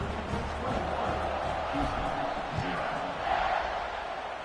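Home crowd in the NCAA 26 college football video game roars in a dense, sustained wash of cheering and shouting, with a commentator's voice under it.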